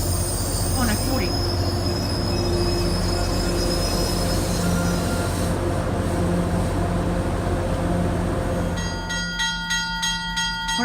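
Two MBTA Commuter Rail trains pass through East Weymouth station, Massachusetts, with a loud continuous rumble, clattering wheels and high squeals, then the rhythmic clack of wheels over rail joints near the end; faint voices sit underneath.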